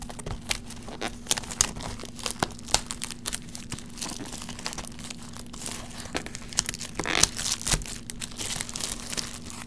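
Cellophane wrapping on a 2016 Topps Chrome Jumbo baseball card box being cut open and torn off, with dense close crinkling, crunching and ripping throughout, a few louder tears near the end, and no talking.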